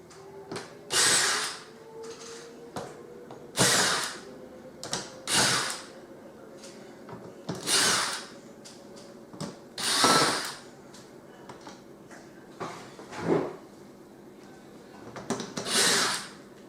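A power drill backs small screws out of a piece of scrap in about eight short, close whirring bursts separated by brief pauses. No one speaks.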